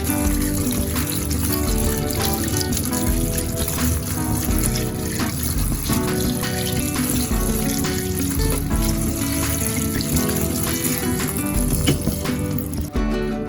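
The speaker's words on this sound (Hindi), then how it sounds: "इस पे अच्छे से पानी डालिएगा, वाटर डालिए ताकि इसका एक्स्ट्रा स्टार्च सारा रिमूव हो जाए" Boiled macaroni pasta rinsed under running water, a steady close splashing and hissing stream that lasts the whole stretch, with tonal background music underneath.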